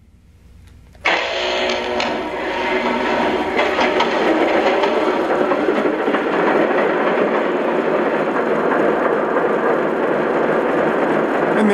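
Lionel Vision Line Baldwin Centipede model locomotive engine sound kicks in abruptly after a second of near silence, then runs as a steady, dense electronic diesel roar throughout.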